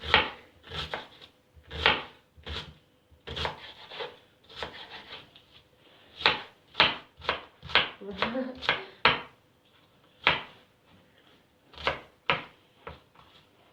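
A knife chopping onions steadily on a board, quick irregular strokes close by, with short pauses between bursts.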